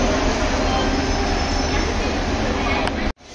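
Inside the driver's cab of a Vande Bharat Express train, a loud, steady rail rumble with broadband roar and faint wheel squeal runs continuously, then cuts out abruptly near the end.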